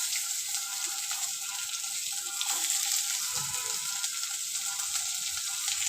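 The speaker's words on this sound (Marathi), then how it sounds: "आता कांदा आपण लालसर होईपर्यंत भाजून घ्यायचा" Onion fries in hot oil with green chillies and roasted peanuts, giving a steady, close sizzle that runs throughout, with a few light stirring scrapes and soft clinks on top.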